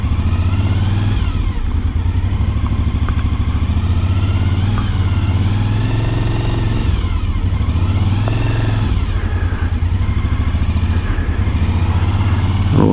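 A Suzuki V-Strom adventure motorcycle engine revving loudly and steadily up close, a dense low rumble with rising and falling pitch swells throughout, heard alone while riding on a road.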